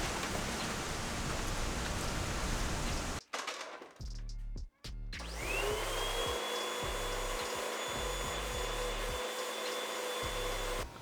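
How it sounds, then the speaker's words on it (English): A normal household vacuum cleaner runs steadily inside a car, its loud broadband roar with a high whine dropping out briefly as the nozzle is moved and bumped around, then resuming close and continuous. "I still use this thing, a normal house vacuum, to keep my car clean"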